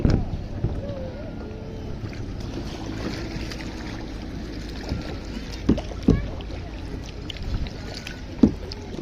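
Kayaks paddled on open water in Paris, with a steady wash of moving water and a few sharper paddle splashes near the end, under faint background voices.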